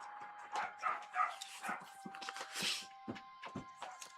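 A small yappy dog yaps repeatedly, a run of sharp, uneven barks and yips at moderate distance, some clustered and some spaced apart, over a faint background hum.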